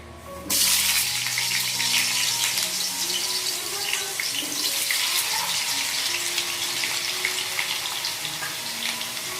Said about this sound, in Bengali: তো তেল গরম হয়ে গেছে আমাদের, আর এখন আমরা আলুগুলো দিয়ে নেব।